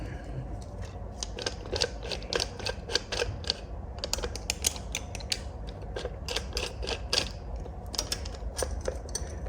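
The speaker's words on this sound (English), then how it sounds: "begin to tighten the ring around the oil filter" An oil filter wrench tightens around the oil filter of a Ducati Monster S2R 1000 motorcycle, making a steady run of close, sharp metallic clicks and ratcheting ticks in an irregular rhythm over a low background hum.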